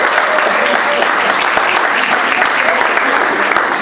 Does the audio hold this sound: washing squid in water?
no